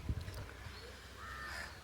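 A crow caws from its nest high in a teak tree, with a brief raucous call near the start and fainter calling after it, distant and quiet over outdoor background.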